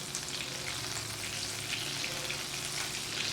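Butter and bacon grease melt and sizzle in a pan with a steady, even hiss and fine crackle that carries on unbroken and close, with no voices over it.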